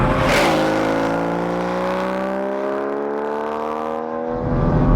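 A sports car engine, a BMW M2 or a flat-six Porsche Cayman GTS, revs loudly and climbs in pitch over several seconds, then the sound drops away before rising again, heard close and alone without talk.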